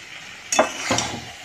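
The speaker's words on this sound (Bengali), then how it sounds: "আমি ভাজা আলুগুলো দিয়ে দিচ্ছি।" Fried potatoes drop into a pan of spiced chicken curry, a sudden loud sizzle followed by a second scraping stir of the spoon, then a fading hiss.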